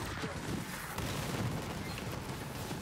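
Dense, continuous rumbling explosions from Moze's attacks in the shooter Borderlands 3, overlapping blasts forming a steady roar with game effects and faint talk beneath.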